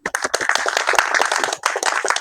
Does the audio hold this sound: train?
no